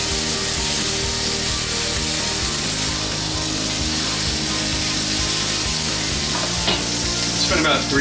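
Steak pinwheels sizzle steadily in a grill pan on an indoor stovetop, a loud continuous frying hiss throughout, with a few brief sharper crackles near the end.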